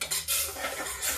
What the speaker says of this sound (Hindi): अब ये दोनों मिला के हम इसको भूनते रहेंगे